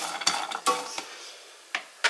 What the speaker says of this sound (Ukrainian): Вирішила посмажити я горіха.